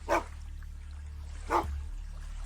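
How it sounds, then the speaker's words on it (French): A dog barking as a sound effect in a tabletop role-playing session, two separate single barks about a second and a half apart over a low steady hum, with no talk. "Et c'est à ce moment-là que l'aboiement de Prince retentit."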